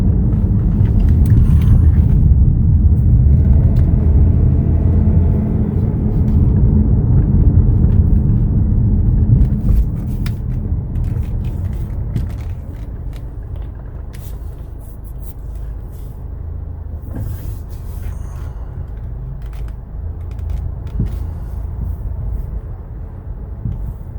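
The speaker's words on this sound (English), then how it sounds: "let's go ahead and take it for a little test drive now" A 2017 Chevrolet Malibu Premier on a test drive gives a steady low road and engine rumble from inside the cabin, loud at first and then settling slightly quieter, with no talk.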